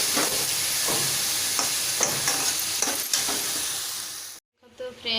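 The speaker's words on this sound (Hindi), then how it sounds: "भेंडी टे अल्प टे जस्ट तेल भाजी देती" Okra frying in hot oil in a pan, a loud continuous sizzle broken by scraping stirs, then a brief drop to silence before the sizzle resumes.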